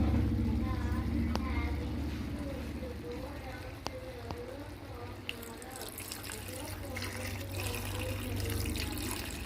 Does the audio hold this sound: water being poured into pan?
yes